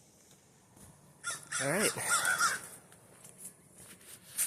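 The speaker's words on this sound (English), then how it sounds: "And the crows are just yakking it up." Crows caw loudly in a burst of repeated harsh calls near a cyclist's roadside stop, with a brief spoken word and quieter scattered caws and rustles before and after.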